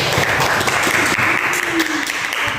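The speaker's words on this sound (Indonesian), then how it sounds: "aplaus dulu untuk kelompok 1" Dense, steady applause from a classroom audience for the first student group, continuous and fairly loud throughout.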